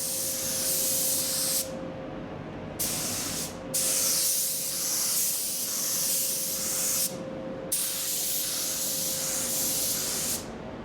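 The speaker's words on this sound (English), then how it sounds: "So, second coat of lacquer now being applied." Spray gun applying a second coat of lacquer to awkward car parts for a Mk4 Caddy build, several long hissing bursts separated by short pauses, close and steady.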